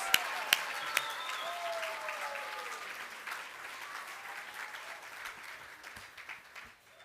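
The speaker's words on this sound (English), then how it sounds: "Let's give those award winners a big round of applause." Audience at the 2024 Braille Challenge Finals awards ceremony applauding the award winners, a steady, dense round of clapping from a crowd that gradually thins and fades toward the end.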